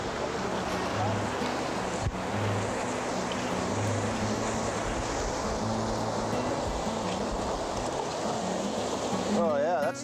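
Water pours through a high banker and splashes onto rocks in a steady rushing wash outdoors by a river, with voices talking over it.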